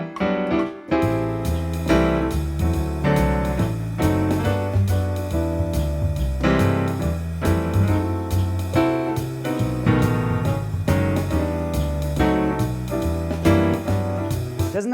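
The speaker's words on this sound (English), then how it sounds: "voicing technique number 4 is called the block chord technique, and it sounds like this." Jazz piano is played in George Shearing-style block chords: full, rich chords in a steady swinging rhythm with a melody running along the top, played alone.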